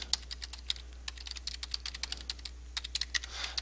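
An email address is typed on a computer keyboard in a quick run of light, crisp key clicks, close and quiet, with a brief pause midway and a low steady hum underneath.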